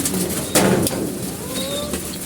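A flock of pigeons kept on a rooftop coos in soft, low, steady murmurs, with a brief louder flutter partway through and a faint whistle-like call near the end.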